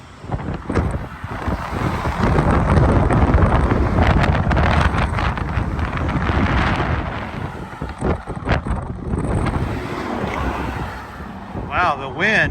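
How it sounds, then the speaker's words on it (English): Strong wind buffets the microphone on an exposed stretch of coast, a loud rumbling roar that gusts and surges throughout, with a person speaking briefly at times. "Wow, the wind is unbelievable."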